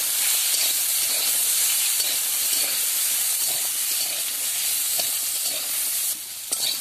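Figs and a diced potato fry in oil left over from frying fish, with a steady close sizzle and hiss and occasional stirring scrapes throughout, and no talking.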